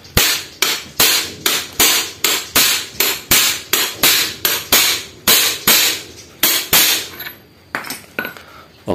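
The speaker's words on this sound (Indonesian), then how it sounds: "menggunakan palu ya guys. Kita pukul perlahan aja," Hammer tapping a crankshaft bearing into place through an old socket, a rapid series of about twenty sharp metallic strikes at a steady rhythm, close and loud, slowing and softening toward the end.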